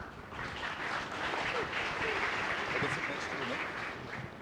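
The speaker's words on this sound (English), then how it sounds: "Applause, please." A crowd applauds steadily, a dense wash of clapping that holds at an even level throughout, with some voices mixed in.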